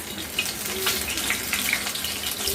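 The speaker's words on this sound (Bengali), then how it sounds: "অল্প তেলে দিয়ে আমি অনবরত এই পিঠে আমি নাড়িয়ে নিচ্ছি" Chicken balls fry in a little oil with a steady, close, continuous sizzling hiss that holds at an even level throughout while they are stirred constantly.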